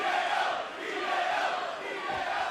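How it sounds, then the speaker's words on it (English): WWE NXT wrestling arena crowd chanting a wrestler's name, a dense roar of many voices that swells and dips in rhythmic waves. "the crowd is chanting Hideo"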